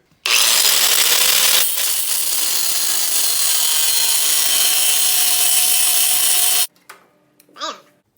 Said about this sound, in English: So we're gonna notch the frame right there.